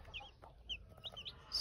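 A broody gurk hen clucks softly among her newly hatched chicks, with faint, brief high peeps scattered over a quiet, low background.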